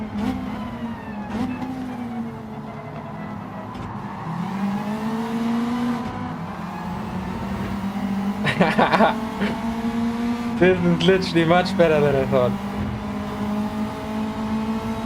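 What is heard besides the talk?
race car engines on track, video game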